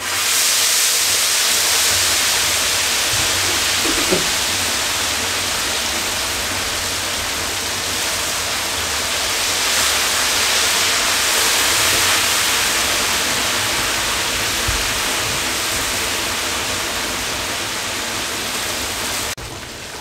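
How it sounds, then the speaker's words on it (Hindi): Whole fish pieces frying in hot cooking oil in a thick wok over medium flame, a steady loud broadband sizzle and hiss lasting the full length, with faint clinks and no talking. "आप पूरे पूरे पीस फ्राई करें इस तरीके से"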